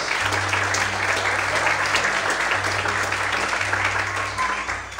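During a sermon a church congregation applauds God in a loud, sustained wall of clapping from many hands, with low organ-like sustained notes humming beneath and the clapping thinning slightly near the end.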